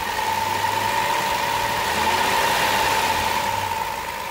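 A 2007 Chrysler Town and Country engine runs steadily at around 1100-1200 RPM, a constant close hum with an even mechanical drone and no voices, from a van with a sputtering-on-acceleration fault.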